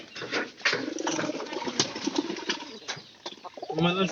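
A pigeon coos in soft, repeated throaty calls, with some wing flapping and rustling close by.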